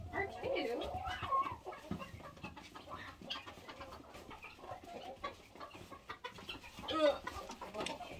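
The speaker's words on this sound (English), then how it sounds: "here's my other little Sarama Bantam rooster" A small Serama bantam rooster clucks and makes short chattering calls close by, while a person talks over it throughout.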